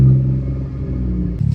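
A BMW engine, an M240i or M235i, turning over and catching into a loud low idle rumble, close up, with a brief rise in revs near the end.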